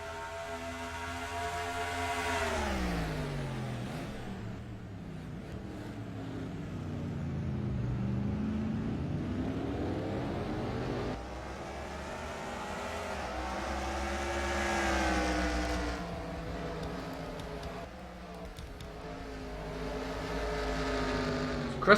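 Race cars tearing around Portland Motor Speedway in Portland, Oregon just after the green flag, engines droning continuously with pitch swelling and dropping as they accelerate and brake through laps, loud and sustained.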